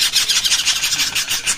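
Kacer (magpie-robin) chicks calling noisily in a rapid, continuous stream of high-pitched chirps, close and fairly loud with no other sounds.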